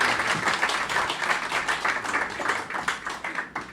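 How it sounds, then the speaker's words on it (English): An audience claps steadily in a lecture hall, a dense and continuous round of applause lasting the whole stretch at moderate loudness. "So give him a round of applause."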